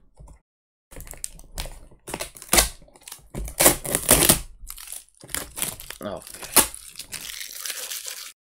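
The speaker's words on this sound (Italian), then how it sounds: "Apriamo il pacco." A parcel of manga is opened by hand, with loud close crinkling, crumpling and tearing of paper and packaging in irregular bursts after a brief silent start, and some speech mixed in.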